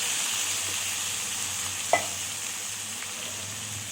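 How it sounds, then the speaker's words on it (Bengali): Cumin, ginger and chilli paste frying in hot oil with panch phoron for a soybean, potol and potato curry gives a steady close sizzle with one sharp clack near the middle, and no voices. "এর মধ্যে আমি জিরে, আদা, লঙ্কা পেস্টটা দিয়ে দিলাম।"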